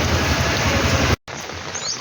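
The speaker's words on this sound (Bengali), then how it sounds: "প্রচুর বৃষ্টি হচ্ছে" A loud, steady wash of heavy rain over a flooded field, briefly cutting out for a moment before the downpour continues slightly softer.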